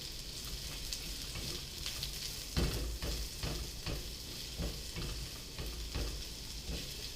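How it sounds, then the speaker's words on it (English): Onions frying in a hot pan for Italian chicken sausage and peppers, giving a steady close sizzle with occasional stirring scrapes and bursts, no talking. "Then we're going to throw in the onions."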